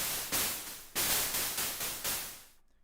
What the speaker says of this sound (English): you got yourself some white noise